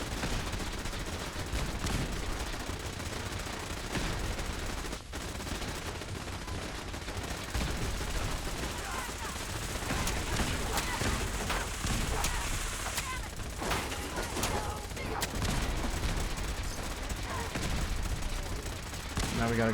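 Gatling laser firing in Fallout 4, a dense, continuous stream of rapid crackling bursts that runs almost unbroken, loud and close, with layered combat noise.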